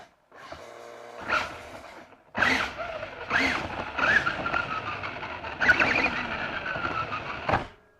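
A Maisto Extreme Beast RC car drives around indoors with its wheels spinning, giving bursts of high electric motor whine that rise and cut off in several short runs, near and moderately loud.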